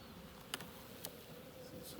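Dark honey bees at an untreated hive in Norfolk give a soft, continuous low hum, faint and close, with a couple of brief clicks and no talking.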